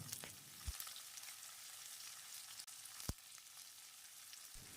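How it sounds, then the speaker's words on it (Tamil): Steady sizzling of lengthwise-sliced onions frying in a pan for Chettinad tomato kuzhambu, with a few sharp stirring clicks and scrapes, close and continuous with no talking. "ஒரு பெரிய வெங்காயத்தை நீளவாக்கில் நறுக்கி வச்சுருக்கேன் இதையும் போட்டு வதக்கிடலாம்"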